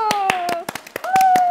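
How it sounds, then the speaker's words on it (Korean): People clap to open a new segment on a Korean TV programme, about a dozen sharp, close handclaps in an uneven rhythm, with a sustained tone running beneath them. "여러분 박수!"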